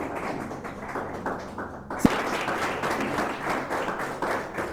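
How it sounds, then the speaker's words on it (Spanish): Strong applause in a church congregation honoring the Lord, a dense steady clatter of many hands filling the room, with a sharp thump near the middle and the clapping continuing loud afterward. "Puede tomar su asiento dándole un fuerte aplauso al Señor"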